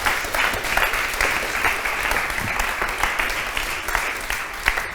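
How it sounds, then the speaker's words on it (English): An audience applauds steadily for several seconds, a dense, even patter of many hands clapping with no voices standing out. "I don't deserve an applause yet, so save it for later."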